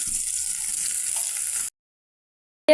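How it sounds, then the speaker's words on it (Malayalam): Curry leaves and ginger sauté in a hot pan with a steady, loud sizzle for over a second, then the sound cuts to silence before a brief burst of noise at the end. "കരിയാപ്പല ഇഞ്ചി നമുക്ക് വഴറ്റാം"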